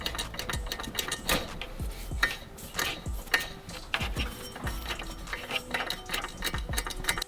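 A rapid mechanical clatter from a faulty power steering pump on a Mitsubishi Lancer Evolution VIII, ticking and rattling unevenly, moderately quiet and close, with no voices.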